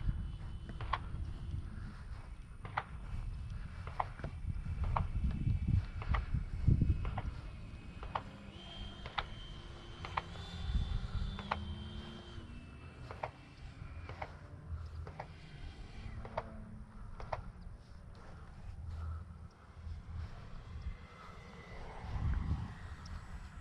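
A Freewing Avanti S RC jet comes in to land, its thin electric whine rising and falling at a moderate distance over scattered outdoor noise.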